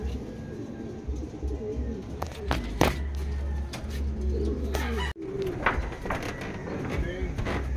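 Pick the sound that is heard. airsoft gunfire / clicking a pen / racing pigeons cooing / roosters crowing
racing pigeons cooing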